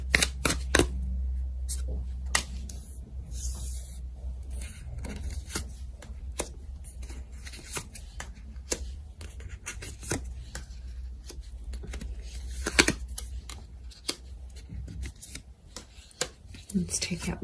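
Tarot cards shuffled close by in quick riffles and soft slaps, with sharp card snaps scattered through a steady low hum and no talking.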